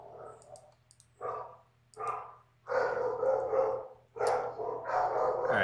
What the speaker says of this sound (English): Let's see what my dogs are barking at.